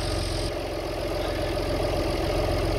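An Alfa Romeo 166 engine idles steadily with an even low pulsing rhythm, heard close up and alone.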